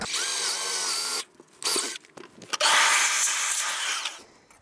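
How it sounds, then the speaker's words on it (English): A power drill whines loudly as it bores a hole in a model railway track layout. It runs in a long burst, pauses with short stutters, then drills again steadily. "And now drill a hole."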